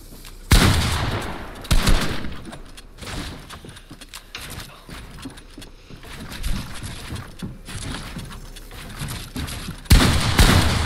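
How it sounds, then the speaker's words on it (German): Rapid gunfire bursts in a shooter video game, loud close shots clustered at the start and end with rumbling game noise between, no speech. "Digga, August, das war ein Triple Headshot oder so, ne?"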